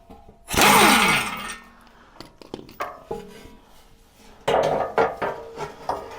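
Skid plates come off a Ford Bronco in a burst of loud metallic scraping and clanging, then scattered knocks, rattles and tool clicks as the plates are handled, close and with no voices.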